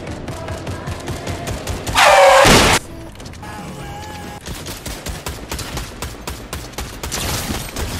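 Fortnite gunfire: a brief, very loud burst of rapid shots and crashing impacts bursts out over steady in-game sound, standing alone in the mix.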